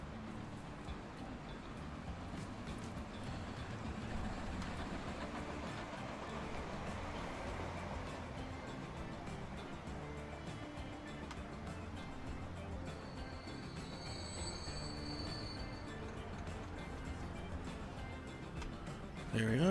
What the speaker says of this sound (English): There we are, shiny new train.